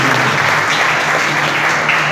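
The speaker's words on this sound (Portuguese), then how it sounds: "Palmas para Jesus." A church congregation at an evening teaching service claps for Jesus, giving a short burst of steady, dense applause over a faint low hum.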